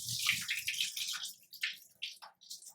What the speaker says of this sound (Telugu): మంచి నీళ్ళతోటి మంచిగా కడుక్కోండి.